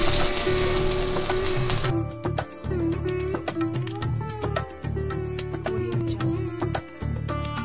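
Onions fry in hot oil with popped mustard seeds, an intense close sizzle that settles into steady frying with stirring, under background music.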